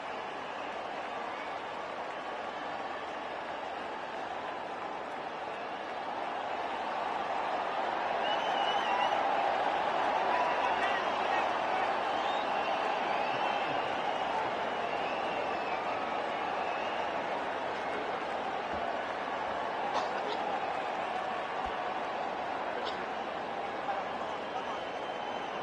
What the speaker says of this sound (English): I just want to pause because the applause is something to behold